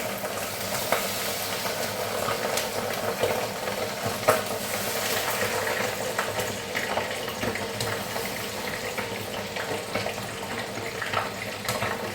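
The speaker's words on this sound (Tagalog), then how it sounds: "Magprito din tayo ng chicken skin." Chicken skin fries in a pan for Filipino cooking, a steady close sizzle mixed with stirring scrapes and a watery spattering texture, with no one speaking.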